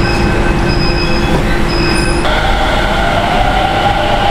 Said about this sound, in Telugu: Palam Metro Station, Delhi Underground Metro.